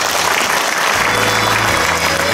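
Steady, loud applause from a ceremony audience at an inauguration gathering, dense continuous clapping filling the whole moment with a faint murmur of the crowd underneath.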